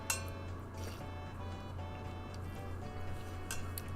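Water being poured or sipped during a short break in a solo reading stream, with faint liquid trickles and a few light clinks against a steady low background hum, no talking.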